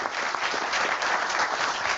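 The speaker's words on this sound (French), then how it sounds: "Je vais vous demander juste un tonnerre d'applaudissements pour nos experts" Applause from a conference plenary audience for a panel of experts, a dense, even wash of clapping throughout, loud and close with no voices over it.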